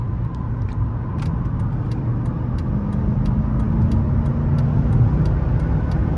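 A Mercedes S-Class accelerating hard in sport mode at around 60 mph on a freeway: a steady, loud road and engine roar that builds gradually, with a rising engine tone and wind noise and no talking.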